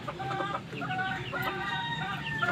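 Backyard chickens cluck continuously at close range in a dirt-floored coop, several hens overlapping in a busy, steady chatter with no talking.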